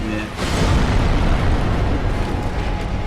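Stray Demon's explosion in the Dark Souls video game: a sudden loud blast that swells into a sustained, roaring rumble filling the whole clip.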